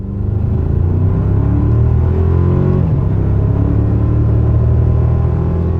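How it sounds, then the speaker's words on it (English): A 2024 Toyota Tacoma fitted with a Magnaflow exhaust pulls away in a 0 to 60 run, a loud, steady low engine rumble building without pause for the whole stretch, heard from outside the truck with no talk. "I love how the Magnaflow sounded pulling away."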